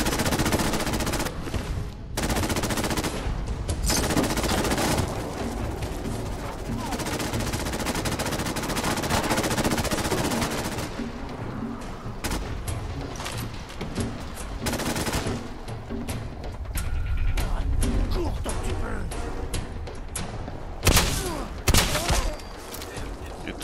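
A makeshift pipe gun fires in Fallout 4, loud rapid rattling bursts of gunfire repeating through dense combat noise, with someone talking in French over the shooting.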